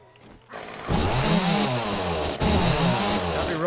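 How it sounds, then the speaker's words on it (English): A chainsaw in the video game 7 Days to Die starts after a brief quiet lead-in. It then cuts with a loud, steady buzzing whine and dips briefly once midway, with no voices. "Gotta be real careful with the chainsaw"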